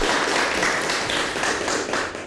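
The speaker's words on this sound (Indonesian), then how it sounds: "boleh tepuk tangan untuk semuanya" Students in a classroom clap together in a dense, steady burst of applause lasting a couple of seconds, then it tapers off.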